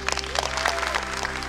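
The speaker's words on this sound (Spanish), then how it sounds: "quiero pedir un gran aplauso para mi amigo Santi" A short round of clapping from an audience greets Santi, a child about to sing on stage, with rapid hand claps over sustained musical tones.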